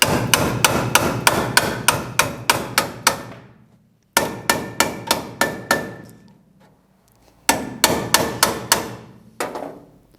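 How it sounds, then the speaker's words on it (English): A hammer strikes a metal panel on a classic Mini 1.8 turbo RWD build, loud close blows in three rapid volleys of evenly spaced ringing hits, each volley separated by a short pause. "then I can continue hammering it"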